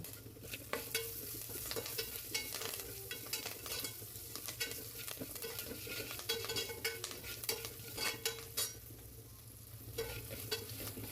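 Curry leaves go into hot oil and are stirred, giving a continuous close sizzle with frequent scraping and stirring sounds over a low background hum, with nobody speaking.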